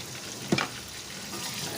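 Tomatoes and green chili frying in a pan for chicken biryani, a soft continuous sizzle with one brief louder crackle or stir near the start.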